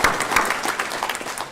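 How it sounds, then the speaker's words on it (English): Brief round of applause at a criminal justice board meeting, a smaller group clapping with individual claps distinct, fairly close and steady. "we are giving you a big round of applause"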